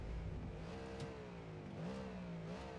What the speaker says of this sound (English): Okay, so here you rev.